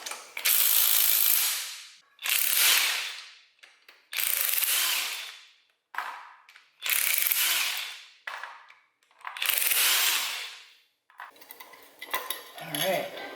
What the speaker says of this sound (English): I'll go ahead and get this bearing retainer plate off.